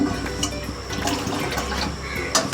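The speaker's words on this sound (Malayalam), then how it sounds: "ഈ ചായ തിളയ്ക്കുന്ന ടൈം വരെയും ഒരു സ്പൂണിട്ട് അതിങ്ങനെ ആറ്റി കൊടുക്കുകയാണെങ്കിൽ ആ ചായക്ക് നല്ല ടേസ്റ്റ് ആയിരിക്കും" Tea boiling in a pot while a spoon stirs and aerates it, giving a steady bubbling, sloshing liquid wash with small clinks and splashes, fairly close and continuous with no talk.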